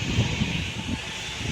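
The presidential airplane gives off a steady, broad engine roar mixed with wind buffeting on the microphone, fairly loud and without speech.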